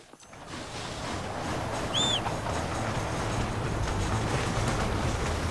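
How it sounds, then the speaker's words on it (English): A train rolling along in the video game Red Dead Redemption: a steady, dense rumble and clatter of wheels and cars that fills the whole clip, with a brief high squeal near the middle and no talking. "You have to stop the train!"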